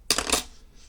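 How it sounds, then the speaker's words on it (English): Scissors snip through tying material for a shrimp fly pattern: a couple of quick, close, crisp metallic cuts packed into a fraction of a second, with no voices. "and then just take your scissors"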